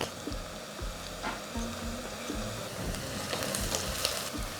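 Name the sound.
onions frying in a pan with salt and turmeric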